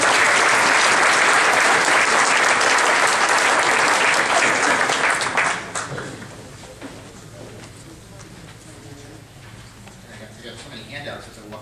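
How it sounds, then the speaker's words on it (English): Audience at a town hall meeting applauds loudly and densely for several seconds, then the clapping fades to scattered claps and quieter room sound with faint talk. "A round of applause for Jay Alexander."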